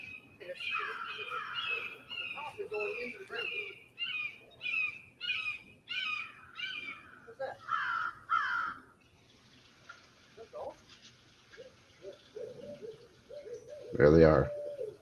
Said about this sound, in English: Now the hoot owls will start.